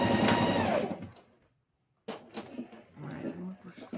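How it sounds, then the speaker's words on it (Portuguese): A sewing machine stitches a school pencil case in a loud, fast whirring run that stops abruptly, followed after a short silence by quieter rustling handling sounds. "E vamos costurar."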